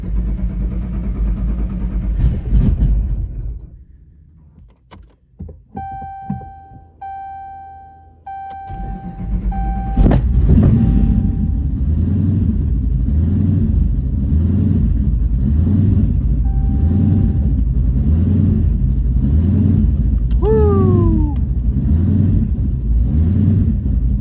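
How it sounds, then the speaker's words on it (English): From inside the cabin, a car's engine fades out, dashboard chimes ping for several seconds, then a cold start fires abruptly into a loud, steady, droning rumble with a brief chirp later on. "rare cold start from inside the car"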